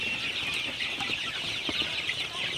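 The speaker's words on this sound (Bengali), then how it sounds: "আপনারা দেখতে পাচ্ছেন আমার সোনালী মুরগিগুলো কিন্তু পানি খাইতেছে" A flock of Sonali super hybrid chickens drinking fresh water in the morning keeps up a steady, busy chorus of overlapping clucks and chatter at close range, with no talking.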